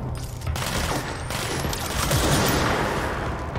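Gunfire in the video game Control, a loud, dense, continuous fusillade of rapid shots and booms filling the whole stretch without letup.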